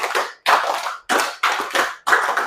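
A classroom of students claps together in five distinct, sharp bursts separated by brief pauses, crisp and close with no talking over it.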